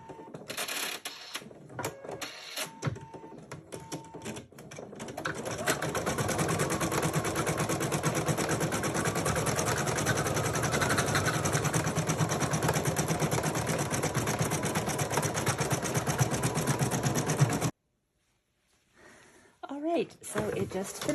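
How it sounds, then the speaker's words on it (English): An embroidery machine stitches a doll hat brim through cotton and batting, a rapid steady mechanical chatter that starts after some scattered clicks, runs continuously for about twelve seconds, then stops abruptly before faint handling noise. "You're going to really enjoy watching it stitch out over this cotton and batting"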